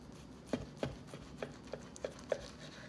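A knife slicing into a cooked steak, giving about seven short, soft cuts in an irregular rhythm, close and fairly quiet, with nobody talking.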